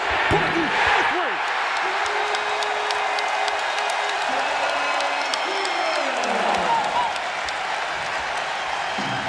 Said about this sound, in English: The crowd is alive.